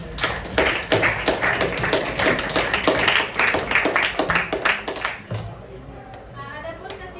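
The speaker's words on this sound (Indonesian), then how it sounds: "Bagus, kasih aplaus." A classroom full of students claps together in a brief burst of applause, dense quick patters for about five seconds before fading into quieter room sound.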